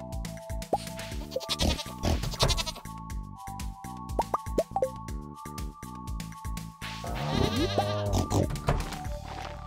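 A goat bleats several times in the farming video game Stardew Valley, with short clipped calls over steady game music and small pops and clicks from the game.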